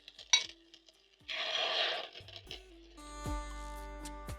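Cooked, well-seasoned masala omelette eggs scooped from a pan, with a sharp utensil clink, a scraping rustle against the metal, then ringing taps as the spatula knocks the pan.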